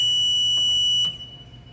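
Plant air pressure alarm sounding as pressure drops, a loud piercing continuous high-pitched electronic tone that cuts off abruptly after about a second, leaving only quiet background hum.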